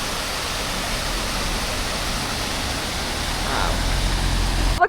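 Rushing waterfall beside a pretty little side road on a motorcycle ride across Japan, a steady broadband roar holding throughout and swelling slightly louder toward the end.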